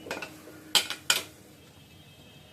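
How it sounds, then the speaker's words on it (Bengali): Potatoes are added to a pot of chicken curry, producing a few quiet clinks and clatters of utensils against the cookware, with two sharper knocks standing out against near silence. "এবার আলুগুলা দিয়ে দিব"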